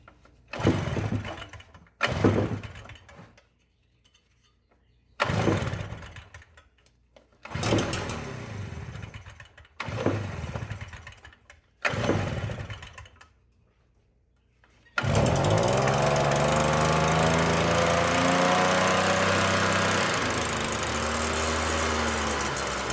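A Stihl BR 400 backpack blower, its carburetor and exhaust spark arrestor recently serviced, takes six rough pull-start bursts that sputter and die, then catches and runs loud and steady at high revs.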